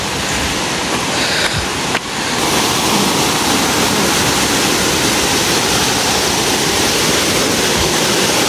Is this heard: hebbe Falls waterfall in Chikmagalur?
yes